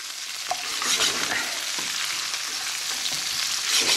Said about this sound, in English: I'm going to return all of that cooked pork to this skillet